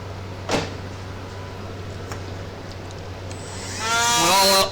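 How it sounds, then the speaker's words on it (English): A Dremel rotary tool trims the gear tower mount of an Athearn Blue Box SW1500 model locomotive, spinning up near the end into a loud, close, rising high-pitched whine after a quiet hum and a couple of faint clicks. "I'm going to use the Dremel and trim those off a little bit"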